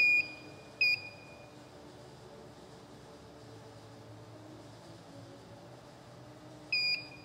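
A paint protection film cut training tool gives sharp electronic beeps: two short beeps at the start, a long quiet stretch of faint room noise, and another pair near the end.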